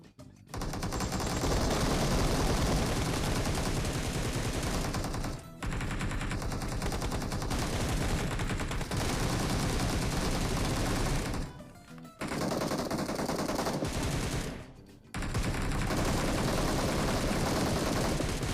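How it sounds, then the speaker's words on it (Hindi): Automatic gunfire in the battle royale game BGMI: long, loud, continuous volleys of rapid shots that break off for brief pauses before resuming. "क्योंकि सामने से ही शॉट्स आ रहे होते हैं"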